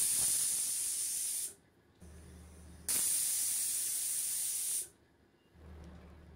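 Pressure cooker on a medium gas flame cooking chicken, releasing two loud, steady bursts of hissing steam separated by short quiet gaps.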